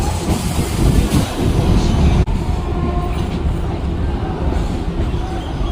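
Loud, heavy rumble of a local train running along the tracks near Azimganj station, steady throughout with a brief jolt midway.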